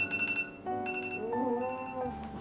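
A phone rings out while a call to a friend connects, a short, close, tonal ringtone melody with a few rising and falling notes and no voices.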